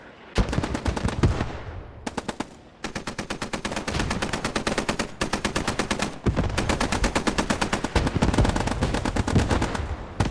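Heavy sustained automatic gunfire in the WWII shooter Post Scriptum, dense rapid bursts of machine-gun fire with brief gaps, loud and close, running almost continuously throughout.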